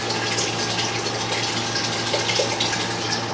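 Sparge water poured steadily into an Anvil Foundry all-in-one brewing system during a hazy IPA brew, a continuous close, moderately loud rushing splash of liquid with no talking.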